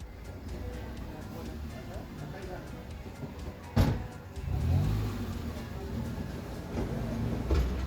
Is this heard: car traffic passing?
yes